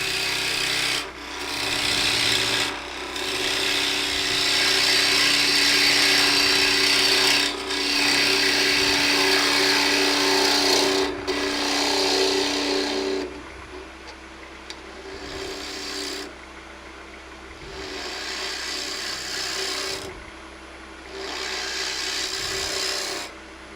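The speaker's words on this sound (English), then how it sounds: "Then I get the bowl gouge, and I'm just going to take that across to the centre." Bowl gouge cutting a dry ash nut bowl on a spinning lathe, making a loud, steady rasping scrape that shifts in tone as the cut moves toward the centre, then fades into softer intermittent passes.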